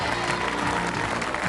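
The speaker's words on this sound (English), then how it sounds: "Do a nice round of applause." A brief burst of studio audience applause on the British game show Strike It Lucky, dense even clapping with upbeat music underneath.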